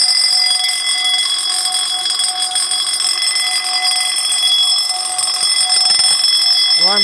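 A powder bell on a Summit SFC-105 fire alarm system rings continuously and loudly at close range during a zone 1 test, with a steady unbroken clang and no talking.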